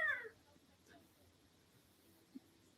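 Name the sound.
child imitating a cat meowing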